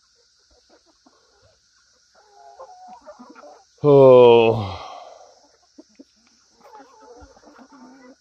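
Backyard chickens cluck in soft, scattered bursts, broken by one loud drawn-out squawk near the middle. A brief exclamation from a person comes in at one point.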